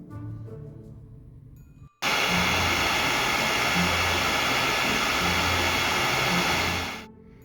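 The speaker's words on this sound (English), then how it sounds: "we are going to have to get out the trusty air dryer" A hair dryer switches on and blows with a loud, steady whoosh for about five seconds, aimed at a plastic toy figure's ball-and-socket joint, then winds down and cuts off.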